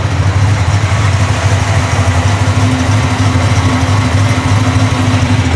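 Ford Mustang engine fitted with a new Demon carburetor idles steadily and loudly close by, an even, continuous rumble with no voices.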